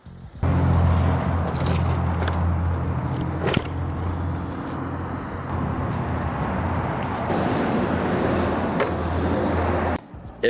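A FedEx delivery vehicle pulls in close by, with a steady low engine rumble and dense broadband road noise that holds for about ten seconds before cutting off.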